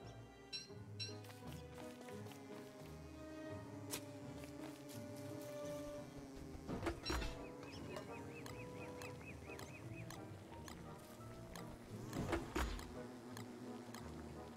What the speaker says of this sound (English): I like how the bees make pauses, and then they huff and puff like, heh, and then they continue flying.